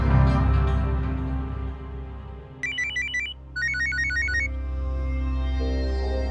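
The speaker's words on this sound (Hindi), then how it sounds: "गुरमीत का फोन" A phone ringtone chimes in two short bursts of repeating electronic tones over a steady low background hum.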